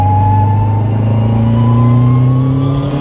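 Honda Type R fitted with a full straight-cut gear set, driving with a steady loud engine drone and a rising gear whine that climbs gradually throughout, no talk.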